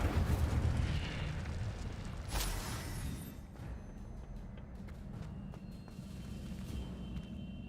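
Incendio fire spell cast in the Hogwarts Legacy video game, a fiery burst with a quick whoosh and crackle that fades into a low rumbling tail, faint and without talk.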